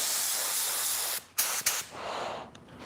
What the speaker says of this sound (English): There's the spray pattern of this 3M gun.